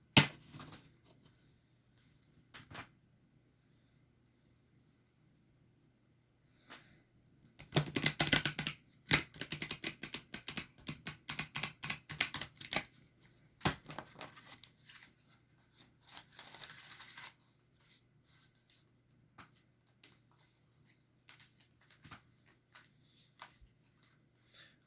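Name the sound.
oracle cards being shuffled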